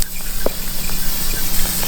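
An aerosol cleaner can sprays a continuous hiss onto a Mitsubishi 4G64 engine part in a garage during a teardown, a steady close-up rush lasting the whole moment with no speech.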